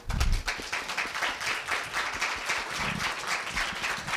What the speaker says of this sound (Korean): 다시 한번 격려의 박수 지금 치고 있네요